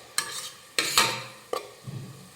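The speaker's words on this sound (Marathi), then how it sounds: "हा टोमॅटो व्यवस्थित परतून घेऊयात" Tomato puree for chole masala sizzles in oil in a hot pan as it is stirred, with several sharp scraping strokes followed by a soft bubbling hiss.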